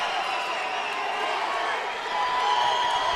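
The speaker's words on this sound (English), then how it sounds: "You hear the crowd starting to come alive for Ricky the Karate Kid Steele." Crowd at a Front Street Fights mixed martial arts main event cheering in the final seconds of a caged bout, a steady, dense roar that swells slightly toward the end.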